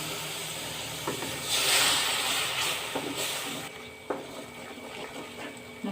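Water poured into spices frying in hot oil for an Assamese jackfruit curry, giving a loud burst of sizzling hiss that swells and then settles into a softer crackle, close up, with no talking.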